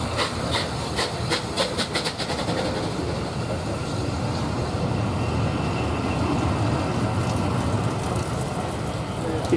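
Steam locomotive 35028 Clan Line pulls out of Sherborne bound for Yeovil Junction, loud and close, with hissing steam and rhythmic exhaust beats and wheel clatter on rails, and people talking over it.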